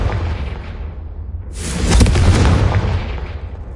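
Confringo explosive spell in Hogwarts Legacy on PS5: a deep, loud boom erupts after a low rumbling bed and rolls on with a sustained blast tail.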